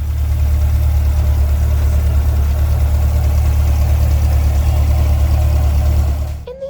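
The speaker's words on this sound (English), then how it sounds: "Lastly, I will just show you that engine running" A 2020 Chevrolet Corvette 1LT idles with a loud, steady low rumble that holds evenly, then tapers off near the end.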